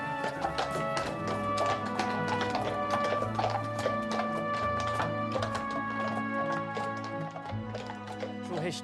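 Hooves clip-clop rhythmically on a hard surface, steady and close, with a busy background and possible faint voices.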